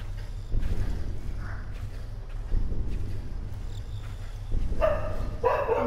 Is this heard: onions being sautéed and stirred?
no